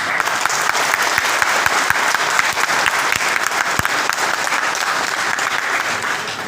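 Applause at a felicitation event for Paralympic athletes, a loud, continuous wash of many hands clapping together with a few sharper claps standing out, crowd noise faint beneath.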